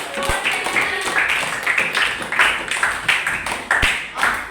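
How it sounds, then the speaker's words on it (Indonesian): Schoolchildren in a classroom clapping to praise group one, striking their hands in short rhythmic bursts of patterned claps, loud and near, repeating several times. "kita kasih lagi dulu tepuk hebat untuk kelompok satu"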